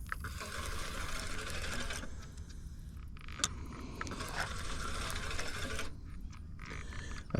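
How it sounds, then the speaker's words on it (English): A bent fishing reel cranks steadily on a catfishing trip in hot weather, giving a continuous close ratcheting, geared whir that sounds off, with no talk over it. "I think that reel sounds funny, don't it, y'all?"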